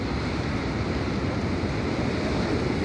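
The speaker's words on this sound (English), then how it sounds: "Friday, fraught with rain and waves and wind." Ocean waves and wind on a rainy, rough day make a steady, dense roar of surf and gusting air, loud and continuous with no pauses and no voices.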